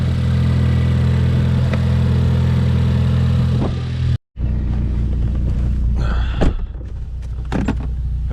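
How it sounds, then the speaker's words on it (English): A Ford Focus ST engine fitted with a single catch can idles loudly and steadily, cuts out briefly, then returns with a couple of quick revs rising over the idle, recorded up close with no talking. "give her a nice rev."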